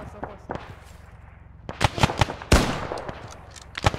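Sharp gunshots crack in bursts from the west during a World War II video game battle at Lyuban: scattered single shots first, then a loud cluster of rapid reports, with a voice talking briefly.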